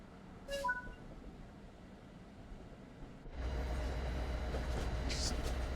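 An MBTA commuter rail train on the Providence/Stoughton line runs with a faint rumble at first, then a louder, steady low roar of rolling wheels and motion that continues to the end, with no voices.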